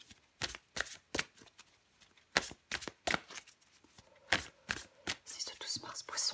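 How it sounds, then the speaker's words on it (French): Tarot cards being shuffled and drawn by hand: a quick series of soft, crisp riffles and slaps close to the ear, irregular bursts separated by brief pauses, with faint whispered speech at times. "je prends encore une carte pour vous, les poissons."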